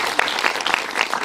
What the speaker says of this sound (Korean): 박수를 치셔야죠.